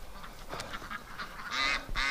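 Farm ducks out in winter snow make a series of nasal honking quacks, a few softer calls followed by two louder, close bursts, with no talking.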